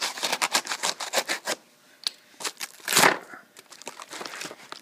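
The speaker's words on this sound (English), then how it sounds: "open my knife, top the box, and carefully cut it open at the top" A knife slices open a cardboard box, heard as a quick run of crisp scratchy cuts, a pause, then a louder tearing rip followed by lighter scraping strokes, close and with no talk.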